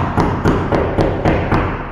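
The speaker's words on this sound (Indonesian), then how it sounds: "coba karbon ketok, kuat" Knuckles knock on a carbon fiber bodykit fitted to a Honda Nouva motorcycle. Six evenly spaced, close, hollow knocks sound one after another with no talking.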